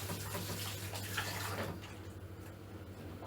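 Running tap water pours over beans being rinsed at a kitchen sink, a steady close splashing rush that thins out partway through.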